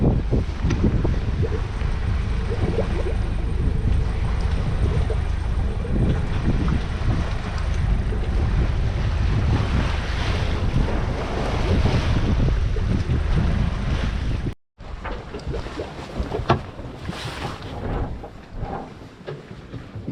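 A sailboat moves under genoa alone with the engine off in light wind at about three knots, heard as a steady rush of water and wind buffeting the microphone, broken by one brief drop-out.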